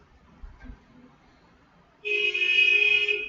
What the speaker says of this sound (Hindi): अरे भाई इतनी जोर से हॉर्न नहीं बजाओ यार।